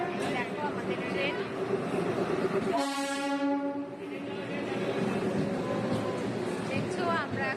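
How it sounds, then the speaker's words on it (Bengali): A train pulls into Raiganj station and sounds a loud, sustained horn blast midway, with rumbling wheels and busy platform chatter around it. "এই যে দেখো আমাদেরও ট্রেন চলে এসেছে"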